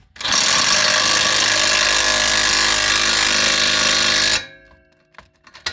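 A power tool hammers steadily at a stubborn 13 mm bolt on the rear link of a 2011 Chevy Malibu, loud and close. The hammering runs for about four seconds, then stops abruptly and leaves faint clicks behind.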